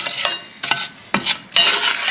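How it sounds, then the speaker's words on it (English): A spoon stirs packed light brown sugar into a candied sweet potato sauce in a pot, making four close, distinct scraping strokes separated by brief pauses. "I'm adding 4 tablespoons of packed light brown sugar. It can go anywhere from 4 to 6, really. And you want to stir that in really good."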